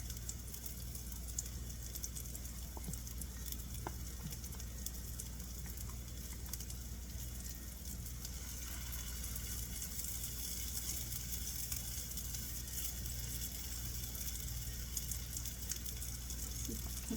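Tater cakes fry in a home pan, giving a steady, dense sizzle and crackle that holds at an even level throughout, with no talking over it.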